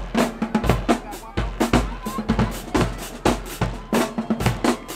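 The Cordova High School marching band drumline pounds out rapid, punchy rhythms at the Southern Heritage Classic, snares and bass drums hitting in tight repeated bursts, loud and close with crowd noise underneath.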